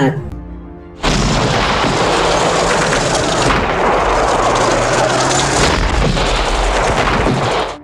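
A Katyusha rocket artillery barrage in a Battle of Moscow war film: a sudden loud onset of dense, continuous booming and roaring launches and blasts that rumble on for several seconds before cutting off.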